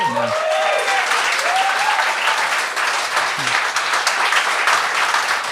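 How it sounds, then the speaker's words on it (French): Applause from a studio audience on a French-language gong show for a comedian, steady clapping throughout with a few brief voices and tonal squeals briefly audible over it. "on peut l'applaudir"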